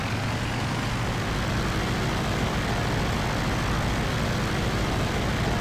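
Steady, loud broadband engine roar of a plane taking off in a flight video game, a constant rumble with hiss above that holds unbroken and without talk.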